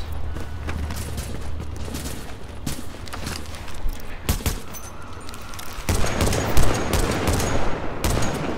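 Automatic weapons fire in The Division in long rattling bursts that run almost without a break, loud and dense, and grow heavier near the end with sharp booming impacts mixed in.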